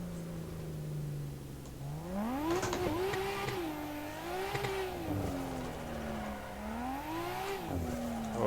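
A drift car engine revs and wails continuously in Assetto Corsa on a night touge-style mountain road, pitch climbing and falling with repeated throttle blips and brief tire squeals, loud and close with no talk.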